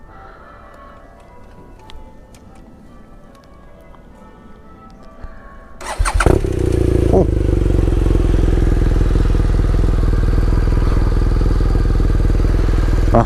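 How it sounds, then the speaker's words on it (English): BMW motorcycle with a large exhaust can starting up after quiet outdoor background, then settling into a loud, steady idle rumble close by; a voice briefly exclaims. "He's just about to start up his BMW."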